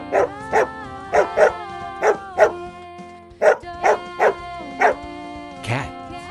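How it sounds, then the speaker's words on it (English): A dog barking repeatedly, close and loud, in a quick irregular series of sharp woofs with short pauses, ending in a brief yip or whimper; no talking. "Dog."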